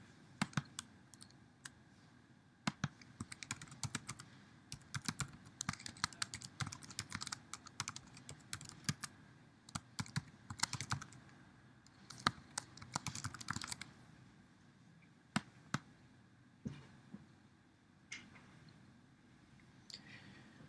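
Computer keyboard typing in quick bursts of clicks with short pauses between, fairly close and quiet, with no talking, as a serial number, username and password are entered.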